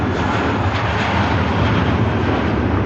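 A British Airways airliner departing Manchester Airport roars with a steady, loud, broadband jet engine rumble that is close and constant throughout.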